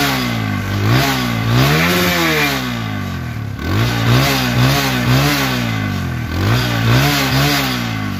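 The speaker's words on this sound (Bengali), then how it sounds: "দেখুন বাইকটির সাউন্ড" A blue Apache RTR 160cc motorcycle revved repeatedly up close, its engine rising and falling in several quick throttle blips between steady idling.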